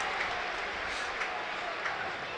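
A stadium crowd at the Burnley v Huddersfield FA Cup third-round football match roars and applauds in a broad, sustained wash of cheering, with the sound steady and distant throughout.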